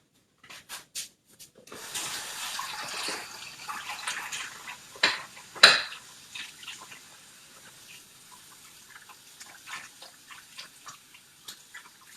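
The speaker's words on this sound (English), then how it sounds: "So I'm just going to rinse these off" Vegetables for spiralizing are rinsed under a running kitchen tap, a soft splashing hiss that runs for a few seconds after some light handling clicks, then thins to scattered drips and knocks as the water stops.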